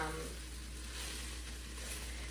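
Onions browning in a pan while a sweet potato and chocolate chili cooks give off a soft, steady sizzle, faint and even throughout, with no voices over it.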